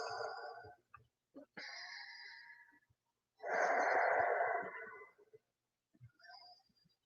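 Slow, deep breaths during a yoga side stretch, long drawn inhales and exhales separated by short pauses, close and clear with faint tonal sounds in the background.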